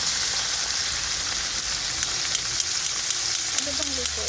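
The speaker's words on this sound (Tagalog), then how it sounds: "Antayin na natin na mag-golden brown ang sibuyas, bawang." Onion and garlic fry in a pan with a steady, hissing sizzle throughout, with no talking over it.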